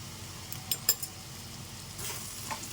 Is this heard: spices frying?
yes